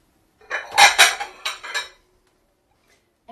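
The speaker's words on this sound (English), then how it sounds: "I'll put this lid on tightly" A lid is pressed and screwed tightly onto a glass jar of fermenting vegetables, giving a quick run of loud, close clinks and scrapes that then falls silent.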